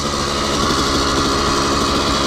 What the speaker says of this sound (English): These bikes kick over fairly easily, so you're just gonna start the bike up.